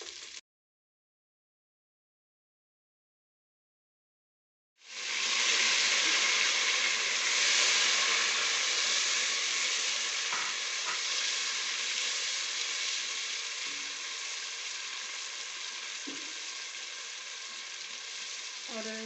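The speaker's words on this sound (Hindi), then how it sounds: "इसको थोड़ा सा हम फ्राई करेंगे, जैसे इसकी जो होती है स्मेल एक लहसुन की, तो ये ख़त्म हो जाएगी" Garlic frying in a pan for vegetable pulao, starting after a brief blip and a few seconds of silence, then a steady loud sizzle that fades slightly over time, with occasional stir clicks and no voices.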